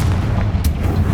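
A booming Confringo fire spell explosion in the Hogwarts Legacy video game, loud and close, a dense low rumble with a brief bright burst partway through, no voices.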